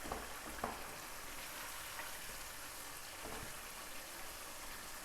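Onions and tomatoes fry in a pan for a chicken masala with a soft, continuous sizzle, faint and steady, with a few light scraping stirs near the start.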